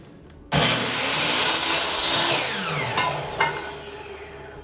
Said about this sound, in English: we are making our last couple cuts here